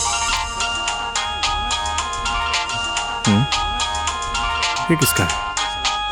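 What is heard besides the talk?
phone ringtone ringing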